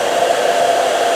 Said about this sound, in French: une fois le casque posé et serré, eh bien il suffit d'allumer le sèche-cheveux